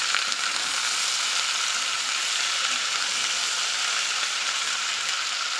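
Jujube pickle cooking with chili and bay leaf gives a loud, constant hiss of frying as it is stirred in a pan, an even sizzle with no distinct knocks and no speech.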